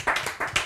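A few people clap close by after a song on a web TV show, a short burst of quick, uneven hand claps.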